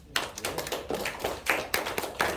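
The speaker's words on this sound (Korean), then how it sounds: "박수 한번 쳐주시죠." Hands clap at a thanksgiving worship service marking UN Korean War Veterans Day, with several distinct sharp claps in an uneven rhythm, close and fairly loud.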